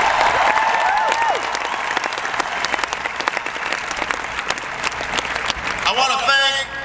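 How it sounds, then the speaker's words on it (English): A rally crowd in Asheville claps and cheers in sustained applause, while a speaker's amplified voice rings out over the start and a few words are heard near the end. "please give Liz Allen a wonderful round of applause for the great introduction."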